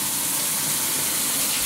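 A continuous hiss of running shower water at a sauna, steady and fairly close with no pauses.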